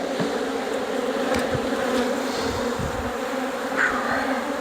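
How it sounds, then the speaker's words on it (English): Honey bees swarm and buzz around an opened backyard hive during a rebuild after a wax moth invasion, a dense, continuous, close-up drone with no one talking. "Lots and lots of bees."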